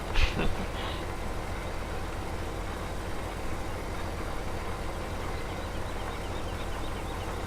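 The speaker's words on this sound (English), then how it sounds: "I don't know how long you guys want to sit here and watch a tractor go back and forth" Tractor engine in the video game Farming Simulator 17, a steady low droning rumble running evenly throughout at moderate level, with a brief clank at the start.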